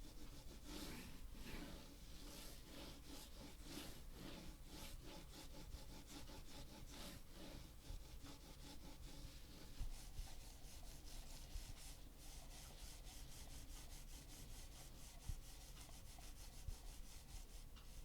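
A continuous scratchy rubbing of mouse skates sliding back and forth over a rough Mad Catz Glide 38 mouse pad, close and fairly quiet, with uneven strokes throughout.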